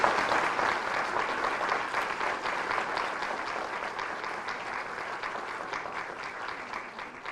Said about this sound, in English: I'd like you all to give her a round of applause for letting me share her story